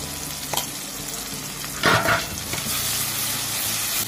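Spices, tomato and ginger paste fry in a pan with a close, steady sizzle, broken by a louder burst of stirring scrape midway; no talking.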